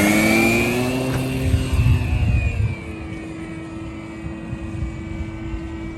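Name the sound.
repaired RC plane taking off and flying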